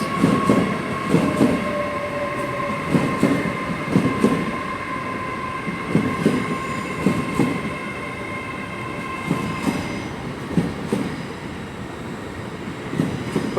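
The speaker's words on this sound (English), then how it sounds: "coming in now is the terminating service from Taunton, 800/307, the unit on this service." A Class 800 train, unit 800/307, pulls into London Paddington as the terminating service from Taunton, with a steady rumble, rhythmic wheel clatter and a faint high squeal from the wheels as it slows alongside the platform.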